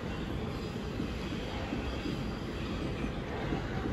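Class 375 electric multiple unit passing through Ashford International station, a steady, loud rumble and rushing roar with wheel and rail noise throughout, no voices.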